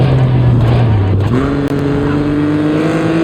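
Rally car engine in the WRC Generations video game, a loud continuous roar that drops in pitch, then climbs steadily again as the car accelerates after a gear change.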